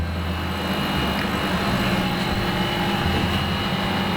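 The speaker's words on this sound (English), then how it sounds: "now I'm going to set the table to automatically check the Z height and position the table in the correct distance from the end of the nozzle" The table of a 100 watt laser cutter driving itself up to set the Z height under the nozzle, a steady droning motor and fan whir with constant level throughout and no breaks.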